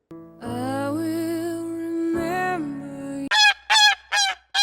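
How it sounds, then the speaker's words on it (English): Loud goose honks: two long, drawn-out nasal honks, then a quick burst of three or four short sharp honks, with no voices. "Who is playing the Goose sound effect?"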